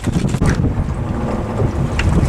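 Wind gusts across Netarts Bay during crabbing on the water, a steady loud rush of microphone buffeting with rumbling low noise and no voices.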